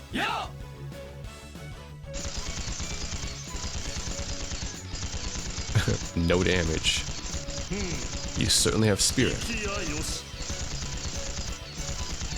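Rapid gunfire and impacts crackle through a battle in the video game Trails to Azure, bursts of shots and crashes sounding over music while characters speak throughout.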